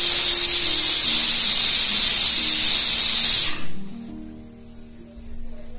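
An electric mixer grinder coarsely grinds coriander seeds and spices for sambar with a loud, steady, hissing whir. It cuts off abruptly after about three and a half seconds, leaving a quiet room.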